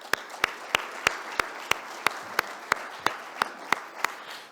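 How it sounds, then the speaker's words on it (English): Sparse, evenly spaced claps ring out at a university symposium, one sharp clap roughly every third of a second, moderately quiet over a faint room hum, with no talk. "I want to give another round of applause to Ethan"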